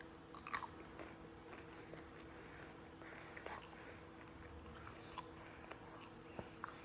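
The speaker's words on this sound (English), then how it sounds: "I can like chew it until it's completely like gum." Soft, close chewing of a crunchy snack, with small irregular crunching bites and mouth clicks at low volume, no talking.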